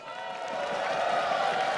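A tournament crowd at a League of Legends All Stars event in Los Angeles claps and cheers in a steady wash of sound that swells slightly toward the end, with a voice mixed in.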